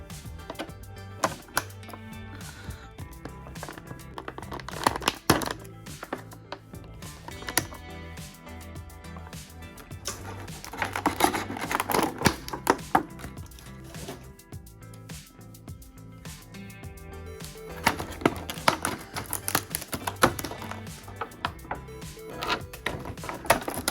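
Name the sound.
unpacking Wonder Woman action figure from taped package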